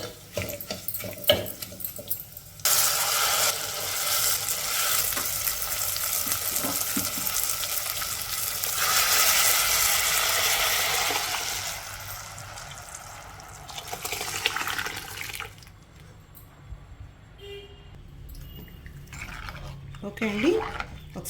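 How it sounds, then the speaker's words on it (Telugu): Lentil soup (pappucharu) poured into a hot tempering pan with curry leaves sets off a loud, rushing sizzle that swells and holds for several seconds, then fades into quieter stirring while someone talks at the start and end. "ఇప్పుడు ఇందులో పప్పుచారు వేసేసుకుందాము"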